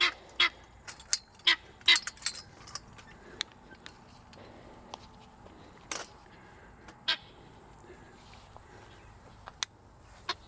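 Farm birds honking like geese, a scattered series of loud, sharp honks in quick clusters early on, then sparser calls over a quiet background.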